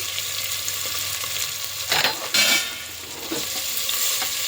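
Green chilies and chopped onions frying in oil in a pan on a gas stove, a steady close sizzle broken by a few louder bursts of stirring and scraping, no voices.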